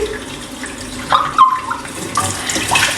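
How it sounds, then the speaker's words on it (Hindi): Water runs steadily from a household tap, a broad, loud splashing rush that swells and shifts as the flow hits the sink, heard alone with no talking. "गर्म पानी आ जा, सुहा, बहुत ठंड है"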